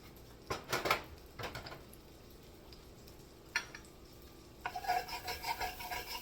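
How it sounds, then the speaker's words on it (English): A utensil scrapes the bottom of a pan holding bacon drippings and melting unsalted butter for clam chowder, in quiet bursts of rasping strokes with soft clinks and a brief low sizzle. "you're going to kind of scrape the bottom of your pan to get all of that, bacon dripping"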